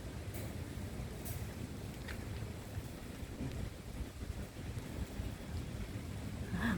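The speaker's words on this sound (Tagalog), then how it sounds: "Umuulan na guys." Steady broadband hiss of rain falling in Pasig, continuous and fairly even throughout, with a few faint clicks and a gusty, wind-like rumble underneath.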